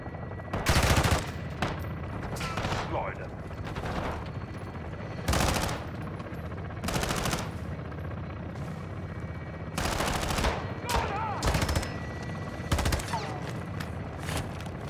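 Bursts of heavy gunfire from a gun run airstrike in Call of Duty: Modern Warfare II, several loud rapid volleys separated by short pauses, with faint voices in the background.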